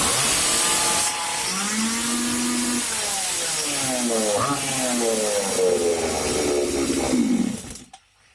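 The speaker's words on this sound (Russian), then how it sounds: "Теперь у нас бензопила заведется на средних оборотах." A Stihl chainsaw pulls into life and runs at medium revs, a loud buzzing two-stroke drone with rising and falling engine pitch that cuts off abruptly near the end.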